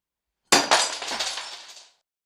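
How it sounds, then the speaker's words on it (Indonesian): A drinking glass full of water knocked off the edge of a dining table shatters on impact, one sharp crash followed by a second hit and a short tinkling spray of shards that fades out, loud and close. "Suara pecahan gelas itu langsung membuat suasana di meja makan itu semakin tegang."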